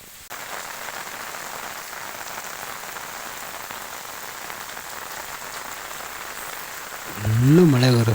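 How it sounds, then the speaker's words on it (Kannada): Heavy rain pours steadily at the Keladi temple, a dense close hiss of drops on hard surfaces throughout, with a brief louder tonal sound near the end. "ಫುಲ್ಲು ಮಳೆ ಗುರು, ಸಖತ್ತು ಮಳೆ ಇಲ್ಲಂತೂ"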